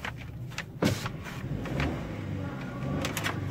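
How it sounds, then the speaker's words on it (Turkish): An Opel Corsa Ultimate with a 130hp engine is given a light rev from inside the cabin: a steady low engine hum that swells briefly, with a few soft clicks and bumps on top. "bir gazlama yapacağım hafiften."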